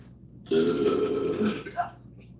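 A single long, loud, close burp rolls out for over a second, with a short throaty tail at the end.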